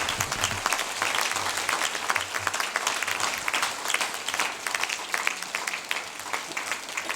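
Townspeople at the mayor's New Year wishes ceremony in Roquefort-la-Bédoule applaud continuously, a thick, even roar of many hands clapping that holds steady for the whole stretch with no talk.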